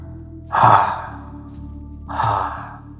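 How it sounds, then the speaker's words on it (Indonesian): Two heavy, drawn-out breaths, each a loud rush of air that slowly fades, spaced about a second and a half apart. "Diikuti suara napas berat."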